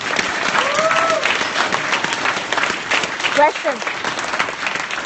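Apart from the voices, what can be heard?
audience applause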